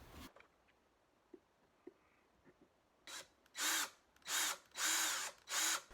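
An electric drill whirs in four short bursts, drilling holes to install a pistol safe, close and loud, after a few seconds of quiet with faint taps.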